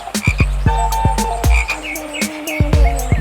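Cartoon frog croaking, with a run of loud, close, evenly repeated croaks that follow one another quickly and stand alone with no talking.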